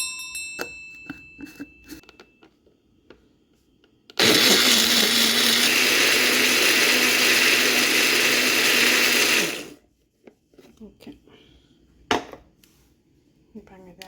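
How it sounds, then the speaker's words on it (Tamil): A mixer grinder jar whirs loudly for about five seconds, grinding crab curry masala with water, then stops abruptly; quieter kitchen clinks and handling noises come before and after. "இது எல்லாத்தையும் இந்த மிக்சர் கிரைண்டர் ஜாருக்குள்ளே போட்டு கொஞ்சம் தண்ணி விட்டு அரைக்க போகிறேன்"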